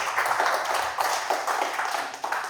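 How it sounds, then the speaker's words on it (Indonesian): Audience clapping for a guest speaker at a forum on AI, a steady dense patter of many hands throughout, fairly close and even in level. "Tepuk tangan dulu dong buat Bro Andra"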